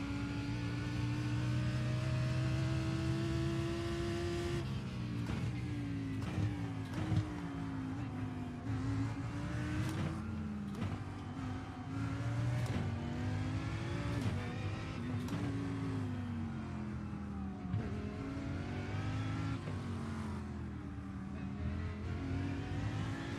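Porsche GT3 race car engine in iRacing at VIR, revving hard and climbing through gears with repeated shift drops, a loud steady in-car roar that runs throughout with no one speaking.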